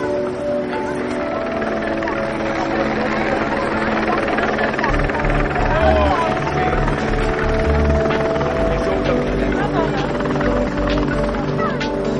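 A helicopter flies at the Phalsbourg airshow, its engine and rotor a steady, loud drone with buzzing tones that hold throughout, while people talk nearby and deep thumps pulse in from about the midpoint.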